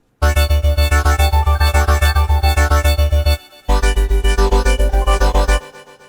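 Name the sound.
color bass synth presets made in Vital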